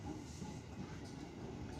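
A KRL commuter train at Manggarai station runs with a low, steady rolling rumble and faint clatter, heard quietly from close by as a continuous background with no talk.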